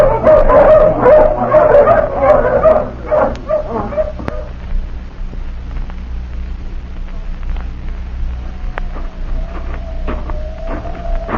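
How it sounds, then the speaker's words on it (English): Hounds on a 1942 wartime radio drama bark and yip loudly in a tight excited cluster as they are let off their leashes, then thin out to a faint whine and scattered yips, with a steady hum underneath. "let the hounds off the leashes"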